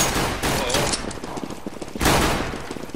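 A decoy grenade in Counter-Strike fires fake gunshots, loud irregular bursts of gunfire over about three seconds with voices talking under them.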